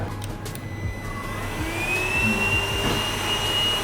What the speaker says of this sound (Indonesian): Jadi di sini untuk menambahkan daya hisap dari vakum ini.